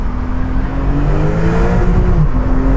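Brabus 720 tuning of a Porsche 911 Turbo S running hard against its rev limiter, a loud, steady engine drone with wavering harmonics held close for a few seconds.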